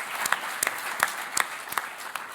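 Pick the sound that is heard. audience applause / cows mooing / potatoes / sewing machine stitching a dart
audience applause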